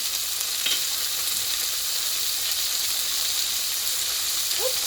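Chili sauce and soy sauce hitting a hot pan for kung pao paneer give a steady, close, broadband sizzle that holds for the whole stretch, with a brief scrape or clink near the end and no talking.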